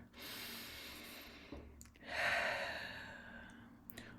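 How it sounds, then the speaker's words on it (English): A person takes a long, audible breath, a broad airy inhale then a stronger exhale, close and alone with no talk. "Always good for me to take a breath at that point as well"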